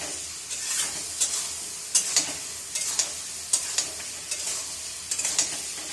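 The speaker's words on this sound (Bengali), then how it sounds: "এবার একটু ভাজা ভাজা করে নিই" Vegetables with mustard paste and spices fry in a pan, a steady close sizzle broken by repeated scraping stirs of a spatula, with no talking.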